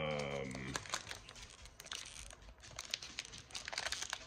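Close, soft crinkling and tearing of foil wrapping as a Panini Haunted Hoops trading card pack is opened, in quick irregular bursts at low volume.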